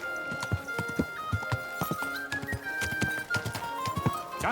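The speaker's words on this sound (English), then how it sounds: "Easy, good horse." Horse hooves clip-clop in Kingdom Come: Deliverance 2, a series of irregular close hoof strikes on hard ground with a faint whinny and soft background music.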